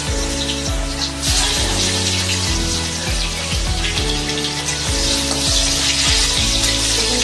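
Eggplant pieces frying in hot oil with dried red chillies and black cumin give off a steady sizzle, partly masked by rhythmic background music that plays throughout.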